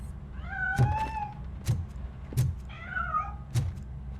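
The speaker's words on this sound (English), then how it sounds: "That cat must be hiding inside." A cat in the video game RoboCop: Rogue City meows repeatedly, giving several drawn-out, wavering cries at moderate distance, with soft thumps at regular intervals underneath.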